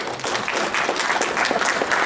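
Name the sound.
audience applause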